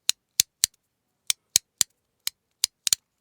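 A milk-cap-lid style fidget toy gives sharp, isolated plastic clicks, about ten snaps spaced unevenly with a quick double click near the end, close and fairly loud in an otherwise quiet room.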